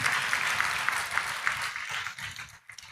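Audience in a church clapping together, a soft, fairly even patter of many hands that thins and fades out toward the end, heard at a moderate distance with no voices.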